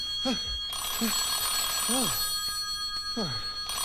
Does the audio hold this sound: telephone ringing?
yes